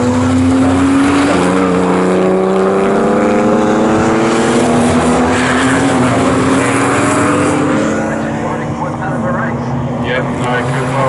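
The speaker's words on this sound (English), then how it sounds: "That's a good run by Clark down the centre straight" Porsche race cars at Snetterton roar loudly and continuously as they run down the centre straight, engine pitch climbing steadily through the gears.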